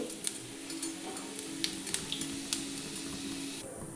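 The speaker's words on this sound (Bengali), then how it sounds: "দেখুন তেল দিলাম, গোটা জিরে দিচ্ছি" Whole cumin seeds sizzling in hot oil in a wok, a steady bright hiss dotted with rapid sharp crackles and pops, close and fairly quiet, with no talk.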